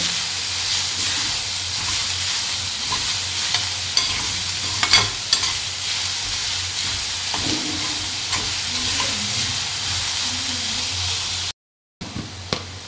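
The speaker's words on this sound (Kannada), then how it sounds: "ಒಂದು ಮೂರರಿಂದ ನಾಲ್ಕು ನಿಮಿಷ ಆದರೂ ಚೆನ್ನಾಗಿ ಫ್ರೈ ಮಾಡ್ಕೊಳ್ತೀನಿ" Vegetable momo filling with coriander leaves stir-fries in a hot pan, a steady close sizzle and hiss with occasional scraping stirs, then a brief dropout near the end.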